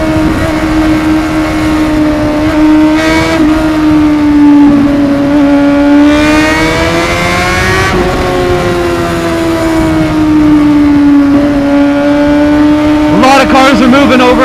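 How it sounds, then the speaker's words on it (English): A Honda CBR600RR motorcycle exhaust drones steadily at high revs, the pitch rising and falling as the throttle opens and eases through traffic, loud and close throughout with wind rush underneath. "It's definitely because of the exhaust, because you can definitely hear it when it's revved out"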